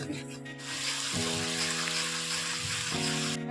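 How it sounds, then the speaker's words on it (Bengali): Onion paste being sautéed in a pan for a Bengali dish, giving a soft steady sizzle and scraping hiss under sustained musical tones, with no one speaking. "এভাবে কিছুক্ষণ কষিয়ে নেব।"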